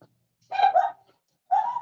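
Dogs in a neighborhood in Mexico let out two short barks or yelps, mid-distance and moderately loud, separated by a pause of silence.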